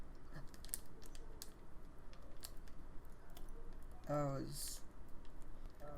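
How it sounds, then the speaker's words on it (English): Clicky typing comes from an Opera GX mod keyboard, heard as scattered keystrokes and a short flurry of faster clacks near the middle of the recording, with faint background noise between them. "For you audio listeners, that was my Opera GX mod keyboard."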